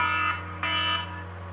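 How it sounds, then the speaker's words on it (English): An electronic alarm in a spaceflight game blares loud and steady, a buzzing harmonic tone over a low hum, pulsing twice with a fresh onset midway. "We're having alarms going off here."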